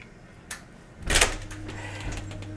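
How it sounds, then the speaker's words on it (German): A hospital door at the delivery ward opens with a soft click followed by a louder rattling sweep and a faint mechanical hum trailing behind it. "Die Tür öffnet sich"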